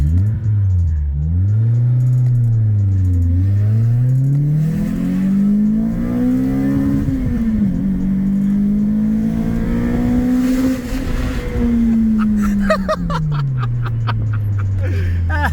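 A car engine revs up and down repeatedly, climbing to a high pitched scream near 8,200 rpm, loud and close, with brief voices near the end.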